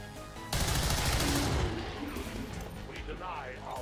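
Loud bursts of gunfire from the video game XCOM 2 start abruptly and roll on as sustained, crackling shots with a dense low rumble that slowly fades, over background game sound.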